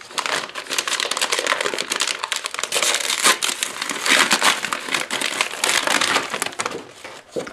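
Crinkling, crushing plastic outer packaging of a Spanish 24-hour ICR military ration being handled, a dense, continuous crackle with sharper bursts throughout, close and fairly loud with no talking.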